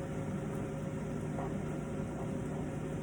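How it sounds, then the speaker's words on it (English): Liquid boiling in a cooking pot, a steady dense bubbling hiss that stays even and continuous from start to finish with no talking. "So we're gonna go ahead and just let it boil out."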